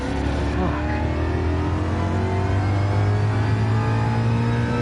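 Race car engine in the video game Gran Turismo 7, shifting gears during an online race. A steady, loud engine drone holds throughout, its pitch shifting slightly as it climbs, with no talking.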